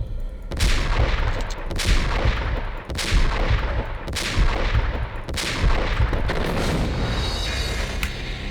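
Sniper rifle shots ring out in Max Payne, about six heavy cracks spaced roughly a second apart, each followed by a booming echo, close and loud against continuous game ambience.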